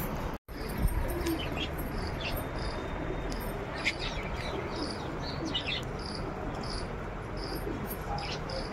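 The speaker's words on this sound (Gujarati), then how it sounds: "હજી ઘણા કબૂતર છે" Pigeons coo softly against a loud, constant chorus of crickets and scattered bird chirps outdoors, after a sharp thump at the start and with no voices.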